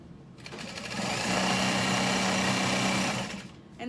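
Sewing machine stitching a tote bag seam at a 3.5 stitch length, a single continuous whirring run that ramps up, holds steady and loud up close, then winds down, with no speech.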